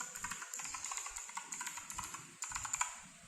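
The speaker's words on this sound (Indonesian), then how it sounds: "switch bawaannya untuk keyboard ini adalah blue switch dan red switch, tetapi khusus yang saya beli ini saya memang sengaja memilih blue switch," Rapid typing on a Fantech Maxfit108 MK855 mechanical keyboard fitted with clicky blue switches: crisp, close keystroke clicks in a quick, uneven stream, heard alone without talk.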